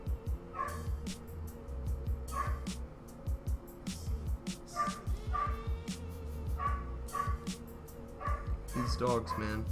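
Several dogs bark and yip in repeated bursts at a moderate distance, with whimpers between them and a steady background hum, while someone talks over them now and then.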